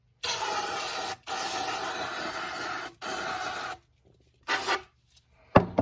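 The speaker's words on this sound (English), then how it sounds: "So this is just contact cleaner." Contact cleaner is sprayed onto a Chapin Premier weed sprayer pump from close range, heard as several loud aerosol hiss bursts of about one second each with short gaps between, then a couple of brief squirts and a clunk.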